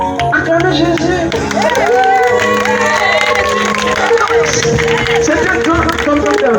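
A large outdoor crowd at a church gathering in a village in Côte d'Ivoire cheers and claps steadily, loud and close, with shouting voices mixed into the ongoing applause.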